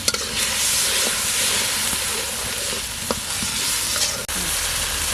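A spice masala of turmeric, dried chili powder and a little water sizzling in hot oil for a sea fish curry, a steady loud frying hiss with occasional stirring clinks and pops throughout.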